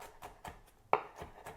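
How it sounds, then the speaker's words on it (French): A knife chops food on a cutting board in a home kitchen, with about seven evenly spaced, quiet taps at a quick rhythm and one sharper knock in the middle. "on va venir hacher"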